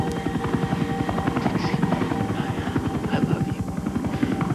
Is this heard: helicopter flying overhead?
yes